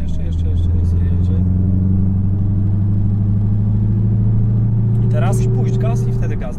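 Dodge Challenger Hellcat tuned to 915 HP and 1153 Nm, accelerating from inside the car: a loud, deep engine drone rising steadily in pitch throughout, with brief talking near the start and end.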